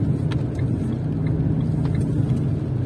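Car engine droning steadily as the vehicle turns left and drives on along a town exam route in Kirovo-Chepetsk, a continuous close hum with faint ticks, no voices.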